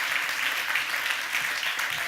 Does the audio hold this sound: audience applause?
yes